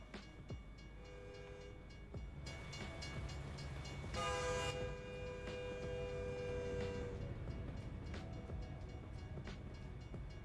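A train rolls past in a modded open-world video game, a long horn blast sounding mid-pass over a steady rumbling and clacking of rail cars, fairly loud and continuous throughout.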